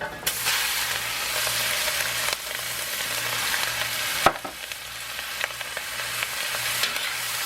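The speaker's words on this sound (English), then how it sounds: "Stir fry that shrimp up with that garlic and ginger." Loud, steady sizzling and crackling of shrimp stir-frying with garlic and ginger in a hot wok, with occasional clanks of a utensil against the metal.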